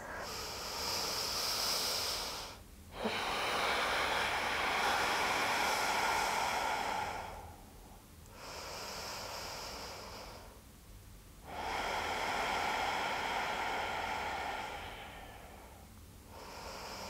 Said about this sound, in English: finding a deep breath here. 3 deep breaths, breathing into the hands.